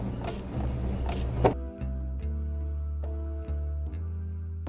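A sewing machine runs in short bursts as it stitches fabric for a face mask. A brief rustle of fabric comes first, then a steady motor hum broken by small clicks and pauses.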